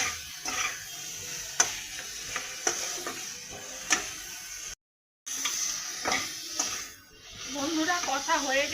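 Spiced masala being sautéed and stirred in a pan for Bengali borar dalna, a steady sizzle with repeated scraping strokes of the spoon, close and continuous, with a brief cut partway through.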